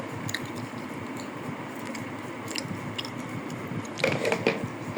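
Someone eats rice with egg curry cooked with snake gourd, making close, soft, wet chewing and squishing sounds throughout, with a slightly louder crunchy bite near the end and no talking.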